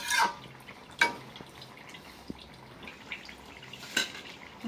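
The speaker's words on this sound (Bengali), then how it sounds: "ঢাকনা দিয়ে দিই।" Metal clinks sharply a few times at close range as a lid goes onto a pot of bottle gourd curry, over a faint simmering background.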